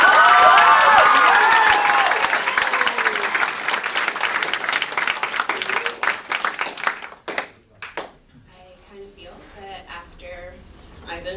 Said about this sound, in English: let's give Tiffany a real round of applause